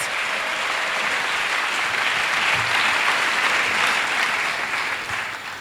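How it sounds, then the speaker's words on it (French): A church congregation claps for Jesus Christ in sustained, dense applause that fills the room evenly, loud and continuous before tapering slightly at the end. "Let us clap for Jesus Christ."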